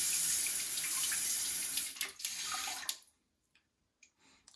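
Water sprays steadily from an ultra-slim stainless steel bidet attachment on a toilet, a continuous hiss lasting about three seconds before it is shut off, leaving a few faint drips and small knocks in near silence.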